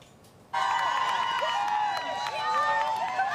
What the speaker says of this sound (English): This is a look at Oilers fans braving the elements to cheer on the team for Game 1.